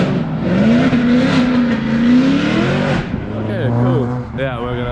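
A drift car is tested on the Atron track in Russia on a practice day, its engine revving loud and close with a sustained howl that sweeps up and down before shifting into rapid pitch changes.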